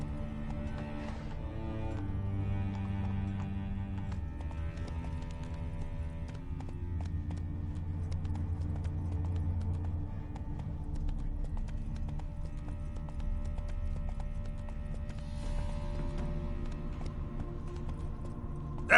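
Steady clip-clop of Roach, Geralt's horse in The Witcher 3, hooves beating in a continuous galloping rhythm under a layer of music, with no talk.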